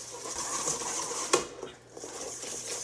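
Whisk scraping and clinking against a bowl while mixing egg yolks and sugar over simmering water for homemade tiramisu, soft repeated tapping with one sharper clink, quiet and close.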